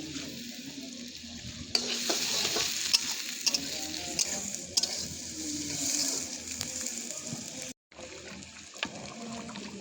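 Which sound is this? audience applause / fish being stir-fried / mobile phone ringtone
fish being stir-fried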